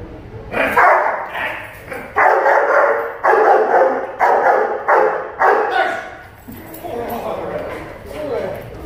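A K9 protection dog barks at a decoy standing close by during a training session, a series of loud, rapid, evenly spaced bursts followed by softer barking, with someone talking over it.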